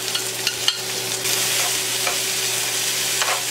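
Garlic and scallions stir-fried in a hot pan give a loud close sizzle, and a few sharp clinks of stirring come near the start before a steady frying hiss takes over.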